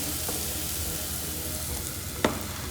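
Spices sizzle in hot oil for masala moong dal khichadi, a steady broadband fry filling the clip with one brief sharper crackle near the end, no talking.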